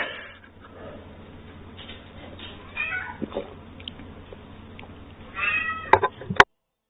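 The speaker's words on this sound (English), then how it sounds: "a very loud old cat" An old cat meows loudly several times, with drawn-out calls close by over quiet room noise, growing louder toward the end.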